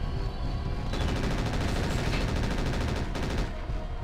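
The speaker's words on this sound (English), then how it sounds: "he's firing missiles at me" Rapid missile and weapon fire hitting a mech in the video game Mechwarrior 4: Mercenaries, a dense loud rattling barrage that runs almost continuously with a brief gap near the end.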